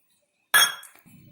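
Two pieces of ginger and some garlic drop into a mixer jar in a home kitchen, making one sharp clink that rings briefly and fades into a soft rattle, with no talking.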